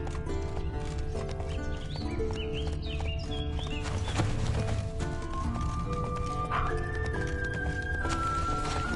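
Rhythmic hoofbeats of a galloping horse in The Witcher 3 amid game effects and music, with a brief neigh and chime tones layered over the steady clopping.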